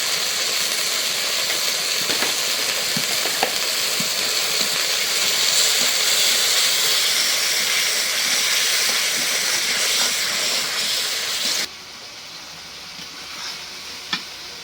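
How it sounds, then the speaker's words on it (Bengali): Spice paste of turmeric, chili and coriander powder sizzles steadily in a hot pan, a loud continuous hiss with faint stirring clicks that drops suddenly quieter near the end, no voices. "মশলাটা কষাই নিলাম"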